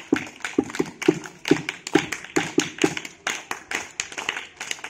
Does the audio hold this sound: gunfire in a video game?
no